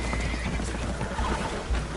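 Spooked horses whinnying and neighing aboard a leaking boat in Red Dead Redemption 2, loud and close over a dense rumbling wash, with stamping hoof clops.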